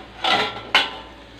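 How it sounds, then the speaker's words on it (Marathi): A lid comes off a pan of bajra flour thalipeeth, two quick metallic clatters close by, then quiet frying underneath. "आता आपण झाकण काढूया"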